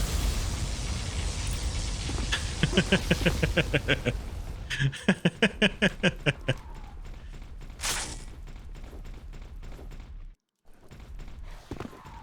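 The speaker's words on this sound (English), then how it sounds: "Fire the orbital friendship cannon." Orbital friendship cannon in Doom 2 with the Guncaster mod, a loud sequence of rapid repeated bursts and booming blasts with whooshes, then a brief silence before the noise resumes.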